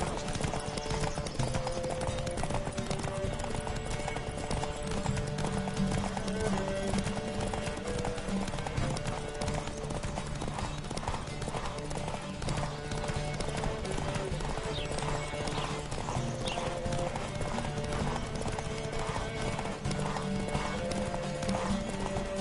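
Galloping horse hooves in The Witcher 3 during a race, a rapid continuous clip-clop rhythm with an occasional whinny, backed by game music and brief voices.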